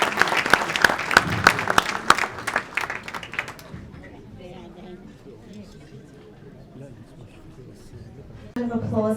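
Crowd applause at an annual church community banquet, sharp close claps for a few seconds that then thin into chatter and scattered voices, with speech returning near the end.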